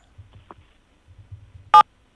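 Single short phone keypad tone from pressing 7 during a prank radio call, a brief sharp beep near the end after faint low murmurs.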